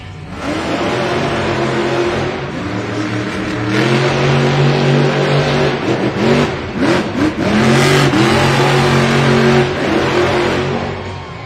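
Monster Jam monster truck engine revving loudly at an arena event, a dense, roaring drone with rising and falling pitch sweeps as the throttle is worked, sustained throughout with no speech.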